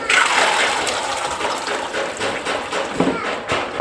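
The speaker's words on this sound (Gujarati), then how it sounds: "ચાયણી હોય ને એમાં નાખી દેવાનું એટલે પાણી બધું નીતરી જાય" Soaked peanuts are poured into a strainer and the water gushes and trickles through in a close, continuous wash of splashing with no talk.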